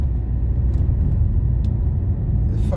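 Steady low rumble of a car driving along a road, engine and tire noise constant throughout.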